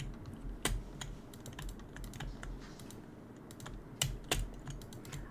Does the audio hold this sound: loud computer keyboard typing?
yes